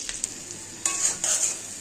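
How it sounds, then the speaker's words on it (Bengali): Fish shallow-frying lightly in oil in a home kitchen gives a steady close sizzle that swells into louder crackling bursts as it is moved around the pan, with no talk. "এদিকে মাছটা আমি হালকা করে ভেজে নিচ্ছি"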